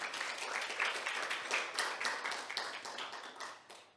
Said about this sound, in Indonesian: Tepuk tangan kita buat Tuhan, saudara.